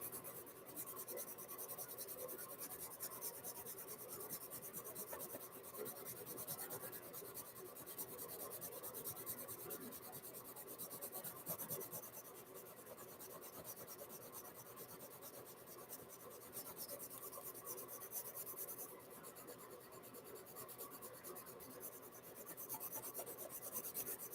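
Colored pencil rubbing across paper while drawing and coloring a cartoon, a close, continuous scratchy rasp of fast back-and-forth strokes with slight swells and pauses in pressure.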